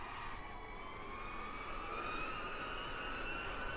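A racing car engine in the RaceRoom Racing Experience video game at Bilster Berg, screaming at very high revs with a thin, siren-like whine that climbs slowly in pitch over a constant hiss.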